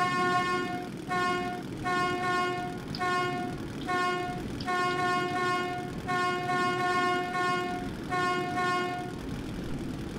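A train horn in the video game Metro 2033 honks in a series of long and short toots, loud and close over a steady rumbling of rail wheels and engine, with no speech.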